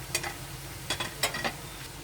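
Potatoes and spices frying in a pan for a Bihari aloo sabzi, a faint background sizzle broken by a few short spatula stirs and scrapes.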